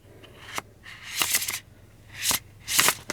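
A tarot deck is riffle-shuffled and bridged in several bursts of crisp, fluttering card riffles, loud and close with brief pauses between them.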